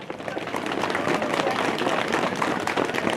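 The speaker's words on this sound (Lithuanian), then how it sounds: "Plojimai dar kartelį" A crowd claps steadily and densely at the opening ceremony of a memorial monument to the victims of the Kęstutis partisan district at Kryžkalnis, a fairly loud, even applause without a break.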